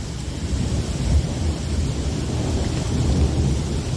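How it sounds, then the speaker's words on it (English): Heavy rain pours steadily while low rolling thunder rumbles through it during a severe March thunderstorm in Michigan, dense and close with no voices. "I knew we were supposed to get a bad storm"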